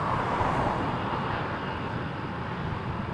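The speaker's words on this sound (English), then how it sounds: "Up next, WestJet 323 to Saskatoon." A WestJet Boeing 737-800 airliner bound for Saskatoon, its jet engines giving a steady, broad roar that holds at moderate level throughout, with no voices.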